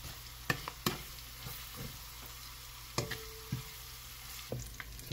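Garlic and ginger sauté in a pan for beef papaitan, a soft steady sizzle broken by scattered clicks and scrapes of a utensil stirring, quiet and close.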